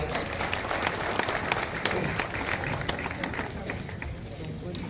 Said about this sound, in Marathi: आपण सर्व त्यांचं टाळ्या वाजवून स्वागत करूया